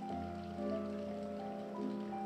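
Steady rain falling in the video game If on a Winter's Night, a continuous soft patter sitting beneath a sustained tonal music or ambient drone, with no voices.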